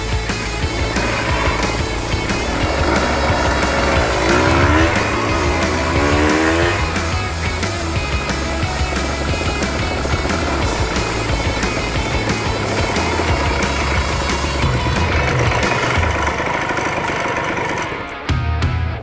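A classic Yamaha DT100 motorcycle rides steadily along roads in Scotland, its engine droning loud and continuous with shifting pitch throughout and a brief drop near the end.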